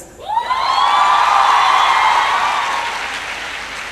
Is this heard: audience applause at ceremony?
yes